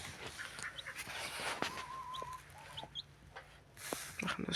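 Growing chicks kept alongside ducklings cluck and peep in faint, scattered calls, with a few brief knocks and rustles nearby and no clear speech.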